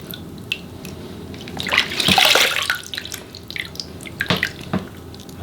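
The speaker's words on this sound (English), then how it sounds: "So just give her a nice little bath down." Water splashes and drips while a dog is bathed, with quiet trickling building into a louder pour or splash midway, followed by scattered drips and small splashes nearby.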